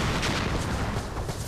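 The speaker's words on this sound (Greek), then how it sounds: "Πυροτεχνήματα." Dense, noisy crackling and booming bursts overlap continuously, a rapid volley of fireworks explosions in the game Far Cry 4.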